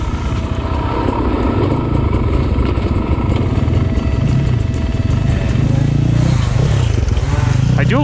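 A Sherco dirt bike engine idles close by with a steady rapid chugging putter that revs up slightly near the end, continuous and loud throughout.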